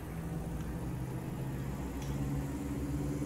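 A Diamond DA40 light aircraft's piston engine in Microsoft Flight Simulator runs at a steady, close hum with a low droning tone that holds evenly throughout, no voices over it.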